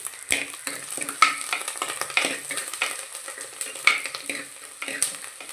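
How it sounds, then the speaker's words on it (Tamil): Onions, green chillies and curry leaves fry in sesame oil for a Kerala-style fish curry, giving a steady close sizzle broken by repeated spoon stirring and scraping in the pan. "நல்ல எண்ணெயில் வெங்காயம் நல்லா வதங்கி வரட்டும்."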